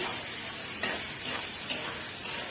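Prawns, garlic and onion fry in a pan in a village kitchen, giving a steady close sizzle with soft stirring scrapes and no voices.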